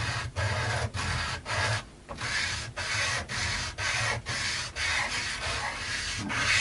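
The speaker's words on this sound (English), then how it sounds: "we can always get it on our sanding block" The end block of a Gibson J50 acoustic guitar is rubbed on a sanding block in steady back-and-forth strokes, producing a close, rhythmic rasping scrape with brief pauses between passes.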